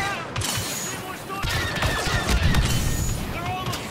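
Blaster fire in a Star Wars Battle of Naboo game in Theed, rapid overlapping bursts and crashes forming a loud, dense fusillade, with voices faintly in the mix.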